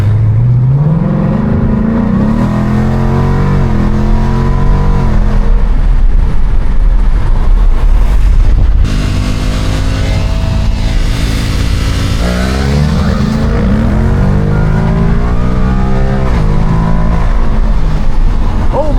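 A Ford Mustang with a slip-on Akrapovic exhaust revs hard and loud, its engine note rising and falling in repeated sweeps, then dropping briefly before climbing again, heard close from inside the car.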